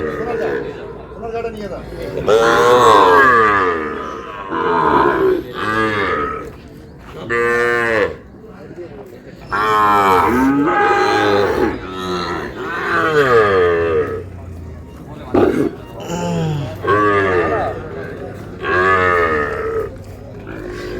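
Sahiwal bull calves at a Sylhet cattle market moo loudly and repeatedly, long drawn calls following one another closely, some overlapping, with short pauses between.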